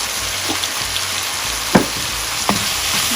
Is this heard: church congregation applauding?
no